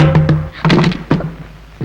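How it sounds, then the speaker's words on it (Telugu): Someone is banging on doors, a series of heavy dull thumps in uneven bursts, loud and close. "ఎవడు వాడు తలుపులు బాది హడావుడి చేస్తున్నాడు?"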